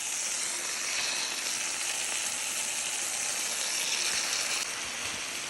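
Venison steaks sizzle in olive oil in a skillet with a steady, bright hiss that stays fairly loud and close throughout, without any speech.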